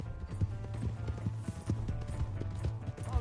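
Horse hooves clip-clop at a steady galloping rhythm in the Red Dead Redemption 2 video game, moderately loud and continuous with a faint whinny-like tone in the background.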